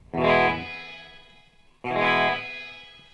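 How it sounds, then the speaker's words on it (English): Walrus Audio Descent reverb pedal set to upper-octave shimmer: two separate guitar notes or chords, each struck loudly with bright, harmonic-rich tails that ring and fade over about a second, played alone. "these two, the below octave and above octave, can provide a sort of a shimmer effect"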